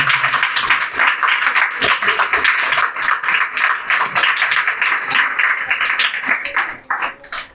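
A group of children clapping together at a Children's Day celebration in a learning center, loud and sustained for several seconds before tapering off.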